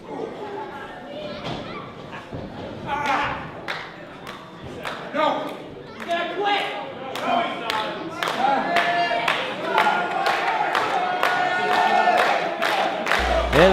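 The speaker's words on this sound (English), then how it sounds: "And the crowd rallying behind Chris Cook" Independent wrestling crowd at an IHW show rallying behind a wrestler with rhythmic clapping and stomping that builds into a loud, regular beat of sharp claps over cheering voices.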